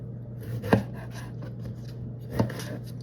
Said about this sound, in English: I'm gonna cut that up just a little more.